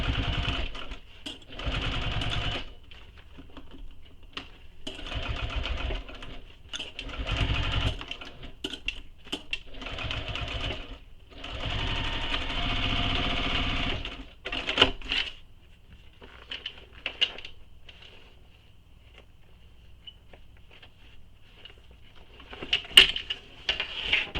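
A sewing machine stitches a bowler bag in repeated bursts of rapid mechanical whirring, broken by short pauses and clicks, close and fairly loud, then trailing off into quieter handling noises near the end.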